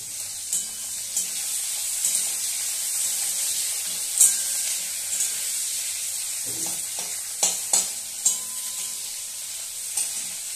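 Steady sizzling of one large chopped onion frying in hot oil for chicken kosha, with occasional soft scrapes and clicks of stirring; no voices.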